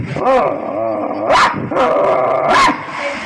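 A voice imitates a small dog growling and yapping, with three sharp, rough bursts and low snarls in between, loud and close.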